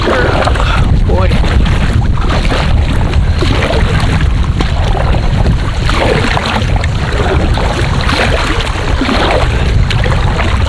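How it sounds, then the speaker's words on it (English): Strong wind roars steadily across an open lake around a point while a small boat is paddled, a continuous loud rush with gusty buffeting against the microphone and faint splashing throughout. "That wind just picked up right on that corner there."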